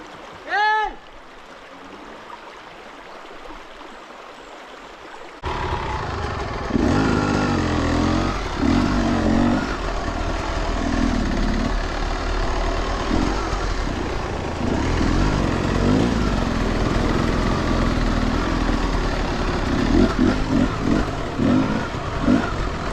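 A motorcycle engine starts after a quiet opening and then runs loud and close with a steady, rough drone. People talk now and then over the noise.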